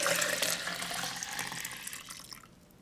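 A milk mixture pours steadily into a pink yogurt maker container, a close, continuous liquid splash that tapers off near the end.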